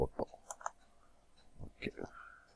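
Keys tapped on a computer keyboard, a handful of light, irregular clicks close by, faint and sparse, with a quiet voice murmuring underneath.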